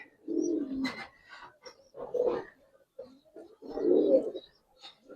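Giribaz pigeons offered for sale give three low, throaty coos, each a rounded burst with short pauses between, heard close and clear.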